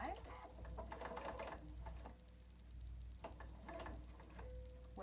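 A sewing machine stitches around the corner of a fabric batwing mask in short, close bursts of rapid ticking, with a person talking over it.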